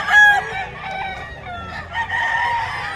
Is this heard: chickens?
yes